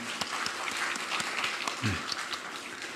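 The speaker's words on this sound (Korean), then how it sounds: "우리 박수로 환영하겠습니다" A church congregation at a Sunday service applauds to welcome a newly registered member: steady, moderately loud group clapping that carries evenly throughout, with a brief voice in the middle.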